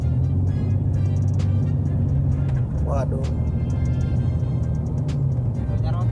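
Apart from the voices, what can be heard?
Jeep Cherokee engine with aftermarket exhaust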